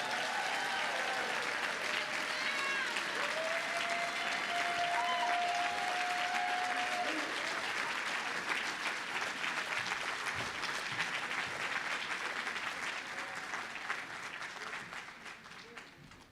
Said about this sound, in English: Another round of applause for Tiffany Dina Lofton, please.